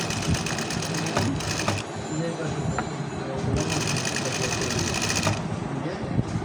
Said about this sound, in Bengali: দেখেন আমি এটা সেলাই করব কোনো টোকলা বা কোনো কিছু হবে না